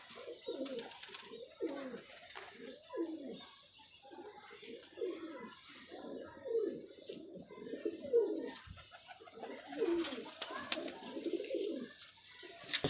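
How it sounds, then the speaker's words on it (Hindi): Pigeons, bred as flying birds, coo in soft repeated throaty bursts close by, a low rolling rhythm continuing throughout with faint background noise. "देखें कबूतर"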